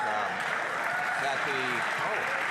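Members clapping and thumping desks in the House of Commons during Question Period, a steady, even wash of applause filling the chamber with no pauses.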